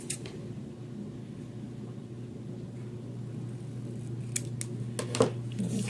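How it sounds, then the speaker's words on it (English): Scissors trim the edge of a paper mini book cover in a few quiet snips near the end, over a low, steady room hum. "Yeah, I need to trim this one just a little bit too."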